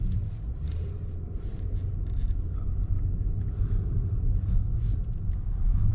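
A 2023 Mercedes-Maybach S680 with a V12 engine pulling away, heard from inside the cabin as a smooth, steady low rumble with faint road noise, with no talking.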